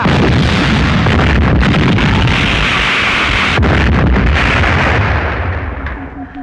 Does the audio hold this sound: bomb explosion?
yes